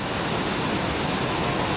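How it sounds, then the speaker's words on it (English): Indoor waterfall in Singapore, a steady, full roar of falling water filling the space, close and constant throughout the short stretch with no talking over it. "They got a waterfall inside."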